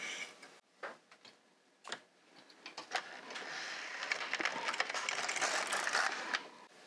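LK 150 knitting machine carriage knitting a row of slipper sock yarn: a few sparse mechanical clicks and taps, then a steady, louder rattling whir with ticking ratchet-like clatter as the carriage slides across the needle bed.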